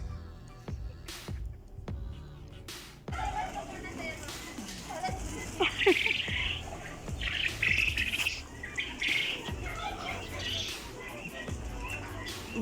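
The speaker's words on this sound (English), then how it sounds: "Beside there are birds." Birds chirp and tweet repeatedly, with bright calls scattered throughout, while people talk nearby and there are occasional clicks and knocks.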